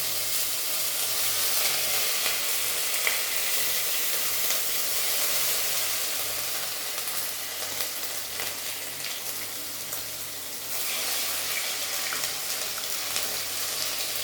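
Grated ginger sizzles steadily in hot oil in a pan with cumin already fried, a dense continuous frying hiss near the mic with small crackles, no voices.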